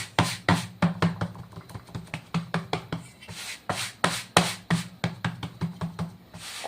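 Bajra bhakri dough being turned and patted by hand, giving a steady run of close, soft slaps and taps in a quick, regular rhythm with no talk.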